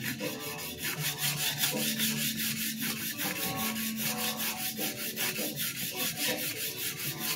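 Takeda knife sharpened on a whetstone: steady, rhythmic rasping strokes, close and fairly quiet, repeating back and forth throughout with no talking.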